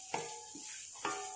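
Rice being stir-fried in a pan for nasi gila, soft scraping strokes of a utensil over a steady close sizzle, with no talking.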